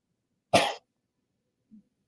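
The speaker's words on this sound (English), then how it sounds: "I had to cough" One short, sharp cough, close and clear, followed by silence and a faint small throat sound.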